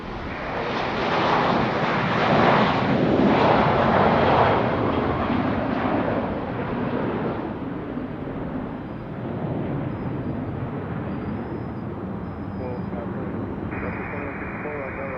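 A United airliner takes off from runway 5 right at Raleigh-Durham International, its broad jet roar strong at first and then easing slightly while staying steady and continuous.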